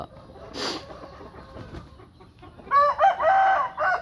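Up close, a rooster lets out one loud crow near the end, preceded by a short burst of noise and low background sound.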